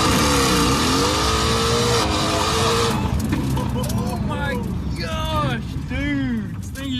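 A rebuilt, previously wrecked Mercedes AMG GTS does a burnout with traction control off, its engine roaring loud and close with a dense rasping rush of spinning tyres, then revving in rising and falling sweeps as people talk over it.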